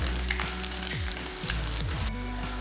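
Potato patties sizzle and crackle in a hot oiled, buttered frying pan, a busy continuous frying hiss with occasional scraping bumps.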